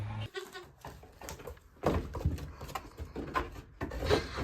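Goats on a village farm bleat from behind a window, a few uneven calls spread through a quiet stretch with some shuffling and clatter nearby.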